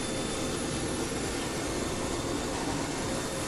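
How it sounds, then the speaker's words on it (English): A Boeing 727's JT8D engine number three spools up in Microsoft Flight Simulator, a steady, loud jet roar with a broad hiss and thin high whine that holds at the same level throughout. "Well, that's a good start on engine number 3."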